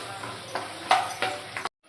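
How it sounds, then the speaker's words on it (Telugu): Peanuts roasting in a pan, with faint crackling and a few light scrapes and clinks of a spoon against the metal over a low background hum, ending abruptly. "పల్లీలు కొంచెం వేగాలి."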